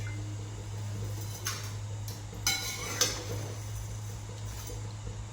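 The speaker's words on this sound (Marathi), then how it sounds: "तर अगोदर मस्त त्याला थोडीशी तेलाची धार टाकून भाजून घेते." Vermicelli roasting in a little oil in a pan over a stove, with a soft sizzle under a steady low hum and a few sharp scrapes and clinks of a spoon stirring.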